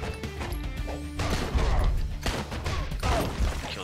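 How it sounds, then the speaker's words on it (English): Gunfire and crashing impacts in the Mr. Shifty video game, loud repeated bursts and smashes in quick succession through a busy game mix. "Oh, I hear a gun!"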